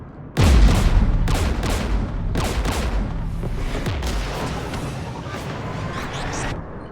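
Gunfire in the video game Mass Effect 3, a loud boom opening into a dense barrage of repeated shots and blasts that keeps going steadily with no break.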